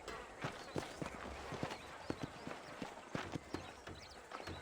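Horse hooves in the Red Dead Redemption video game, a steady clip-clop of several horses moving at a trot over open ground, close and clear over faint ambient background, with no talk.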